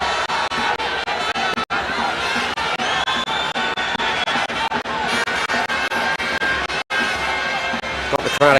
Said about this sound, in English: Got the crowd excited.